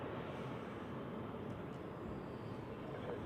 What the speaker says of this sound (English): Here we go, takeoff for the Swiss flight to Sweden.